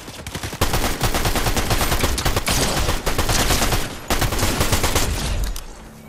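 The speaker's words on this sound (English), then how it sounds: "this SMG is actually pretty good" Rapid, loud SMG fire in Fortnite, sustained bursts of closely spaced shots spanning nearly the whole stretch with a couple of brief pauses, close and dominant.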